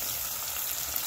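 Chopped onions sizzle in hot oil, the same oil just used for frying potatoes, making a brief, steady, close hiss with no voices.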